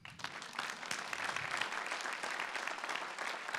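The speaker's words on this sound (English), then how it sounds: "you can applaud" Steady applause from an audience at a talk on the Third Industrial Revolution, dense and even clapping that fills the whole moment without speech over it.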